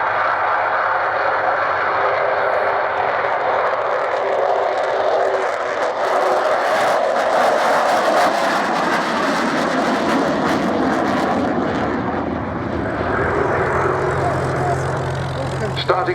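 Avro Vulcan bomber performing at a flying display at Cosford, its jet engines producing a loud, sustained roar that swells through the middle and fades slightly, with a commentator's voice over the noise.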